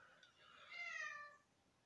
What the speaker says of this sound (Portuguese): E o gato vai começar a miar.